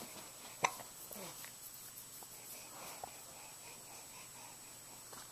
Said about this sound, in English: Do you have hiccups?